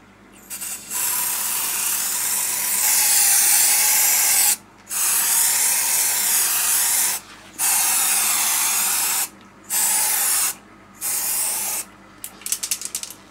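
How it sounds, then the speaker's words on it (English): Dr. Oetker silver shimmer spray hisses onto cake-decoration Wolverine claws in five or six loud, close bursts of steady aerosol spray separated by short pauses, with a faint rattle at the end and no talk. "I'm just about to spray these Wolverine claws with some Dr. Oetker Shimmer Spray Silver colour"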